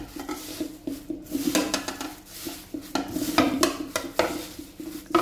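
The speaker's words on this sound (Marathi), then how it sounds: "मिक्स करूया." Poha being mixed by hand in a kadhai with oil, giving a continuous busy scraping and clattering against the metal pan with soft sizzling underneath, close and steady throughout.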